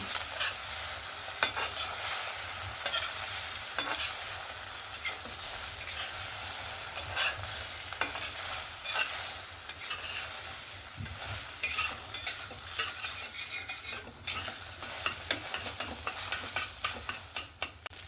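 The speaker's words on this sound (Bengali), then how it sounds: "ডিমটাকে আমি সুন্দর নেড়ে চড়ে দেখুন এরকম ভেঙে নিয়েছি" Scrambled egg sizzles in a pan while a utensil scrapes and stirs repeatedly, irregular scraping strokes over a continuous frying hiss, no talking.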